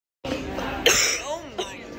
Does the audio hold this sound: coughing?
yes